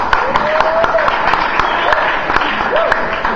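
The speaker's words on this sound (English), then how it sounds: "Give them a round of applause." Audience applause at a youth group talk, steady dense clapping throughout with scattered cheers and voices mixed in.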